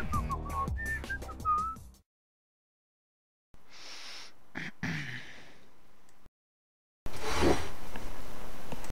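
A person whistles a short tune with clear, wavering melodic notes for about two seconds. Silence follows, then a few seconds of muffled rustling and breathy sounds, a brief gap, and a final burst of louder noise.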